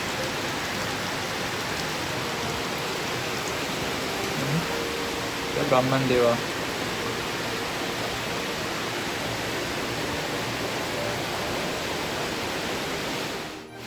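Spring-fed water pours steadily down the Brahman Dev waterfall near a village. The broad, constant roar fills the whole clip, and someone speaks briefly partway through.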